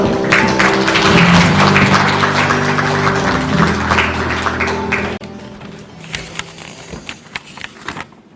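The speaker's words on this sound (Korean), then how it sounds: "힘찬 박수로 맞이해 주시기 바랍니다." Applause from the audience at a Korean agricultural policy forum's founding ceremony, welcoming a lawmaker to the podium. A loud burst of clapping mixed with tonal sound fades after about five seconds, leaving scattered lighter claps.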